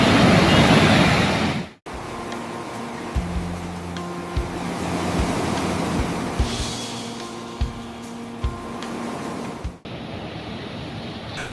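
Sea waves breaking on Gopalpur beach in Odisha: a continuous broad surf roar with wind, fairly steady and close, with no voices.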